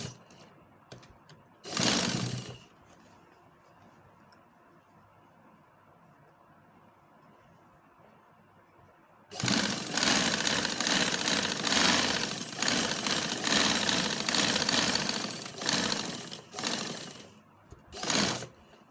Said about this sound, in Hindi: मैं यहाँ पे सिलाई लगाऊंगी